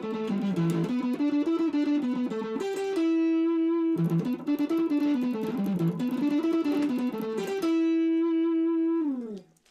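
Electric guitar playing a blues lead pattern, a run of bent and sliding single notes with a sustained held note, then the phrase repeated and ending on a long ringing note, loud and close with no talking.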